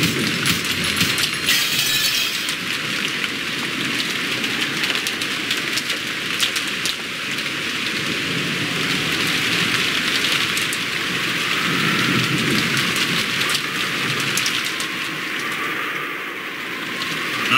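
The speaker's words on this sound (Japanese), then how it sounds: "雨が吹き込んじまうぜ。" Steady rain from the Umineko video game sound effect, blowing in through an opening, a dense continuous hiss of drops spattering on surfaces, with no voices.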